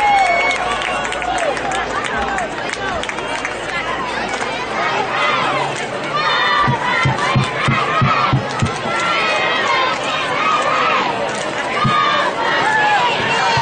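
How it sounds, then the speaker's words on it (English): Spectators cheer and shout in the stands at a junior high football game, a loud, sustained crowd roar with children's voices and rhythmic stomping or thuds midway, an announcer's voice mixed in. "Make that noise, crowd."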